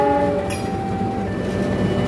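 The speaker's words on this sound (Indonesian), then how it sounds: "Wow, kereta lewat jalan raya," A train crossing a road rumbles steadily and close, with a sustained horn tone sounding over the rolling wagon noise and faint rail clatter.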